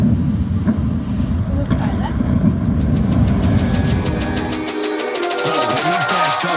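Rocket engines roar into life at launch, a loud continuous broadband rumble with voices talking over it, then the low roar cuts away into a steady tonal hum near the end.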